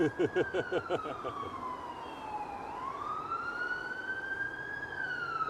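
A loud ambulance siren wails continuously on a city street in Vancouver, its pitch sweeping down and back up, with a rapid yelping pattern at the start; traffic noise rumbles underneath.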